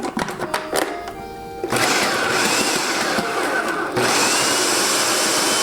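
Food processor blades whirring through light brown sugar, salt and crumble mix, in short bursts that then settle into a steady loud whir, with a louder surge near the end and no talking.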